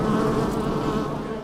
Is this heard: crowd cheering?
no